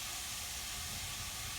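Olive oil sizzles loudly in a pan with a chicken Prosecco meat sauce, a dense unbroken hiss that fills the whole moment with no talking.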